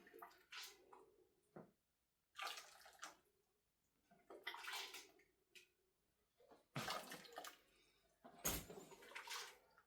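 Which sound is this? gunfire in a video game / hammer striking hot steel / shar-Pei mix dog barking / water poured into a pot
water poured into a pot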